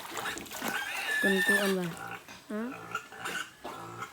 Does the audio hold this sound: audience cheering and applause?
no